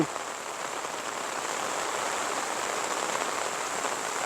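Steady rain falls without thunder in a rural northeastern Thai village, a dense continuous hiss of drops on surfaces, fairly soft and even with no voices.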